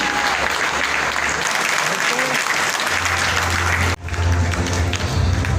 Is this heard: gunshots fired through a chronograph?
no